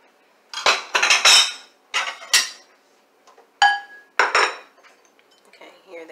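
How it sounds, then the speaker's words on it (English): Cookies being set onto a microwavable dish, giving a short run of close, sharp clinks and clatters of dishware and cutlery in quick bursts, then a pause and a few more knocks. "Let's put them on a microwavable dish first."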